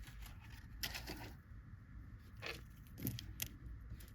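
Wire snipped with cutters while making a small necklace loop for an 18-inch doll, a few brief crisp snips close by over quiet background.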